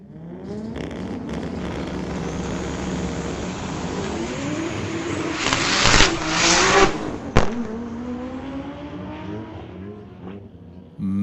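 Drag strip launch of a 1995 Toyota Supra against a 2006 Infiniti at a street legal night event, engines droning and rising in pitch as the cars pull away, with a sharp burst of noise near the middle.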